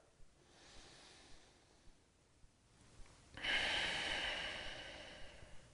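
Slow, quiet breathing of a person lying in a reclined yoga twist, soft inhales early on, then a longer, louder breathy exhale that trails off.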